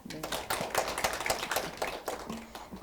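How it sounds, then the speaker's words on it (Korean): An audience applauds at a Daejeon policy debate forum on work-life balance and youth settlement, giving a brisk, dense round of clapping that stays steady for a few seconds, close and lively. "다시 한번 큰 박수 부탁드립니다"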